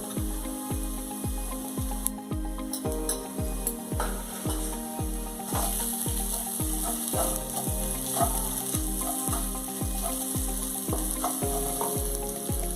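Vegetables fry in a pan with turmeric, chili and cumin powder, giving a steady close sizzle. Regular rhythmic ticks of stirring repeat throughout, and no one speaks.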